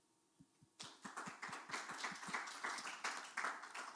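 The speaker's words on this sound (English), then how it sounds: "there was a round of applause for you" Audience applause for a speaker at a conference side event on low-carbon transitions. A quiet room gives way to a few single claps, then steady, moderately distant clapping from a small crowd that goes on for several seconds.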